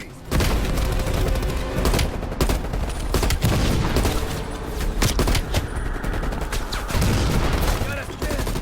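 Dense, continuous gunfire and anti-aircraft cannon bursts from a Black Ops Cold War battlefield, loud sharp reports stacking into rapid volleys with booming impacts, under shouted voices throughout.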